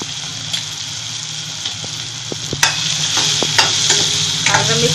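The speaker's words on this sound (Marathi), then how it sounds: "दोन मिनिट चांगला आपण परतून घेतला कांदा" Onion with salt and turmeric frying in a pan, a steady close sizzle under repeated clinks and scrapes of a spoon stirring, with no talk.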